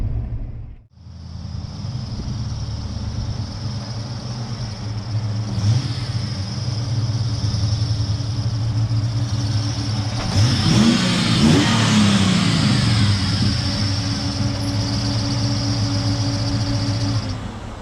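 LS1 V8-swapped Nissan Patrol driving on the road, its engine droning steadily from inside the cabin with a brief dip and then a rising rev as it accelerates, loud and continuous.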